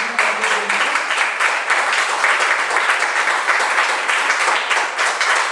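A church congregation at an evening Pentecostal service applauds loudly and steadily, dense rhythmic clapping filling the room for several seconds, with a faint voice briefly at the start.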